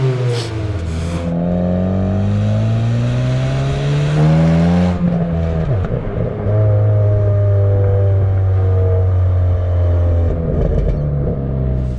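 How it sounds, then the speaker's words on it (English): Hyundai i20N with its gasoline particulate filter deleted, revving loudly and close by, then lifting off throttle as the exhaust note sweeps down into a sustained drone with some rough crackle, no voices. "A few more pops and cracks"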